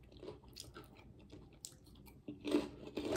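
Honey Mustard Ruffles ridged potato chips crunched and chewed close to the mic in a quiet room, a steady run of crisp bites and chewing that grows louder and denser near the end.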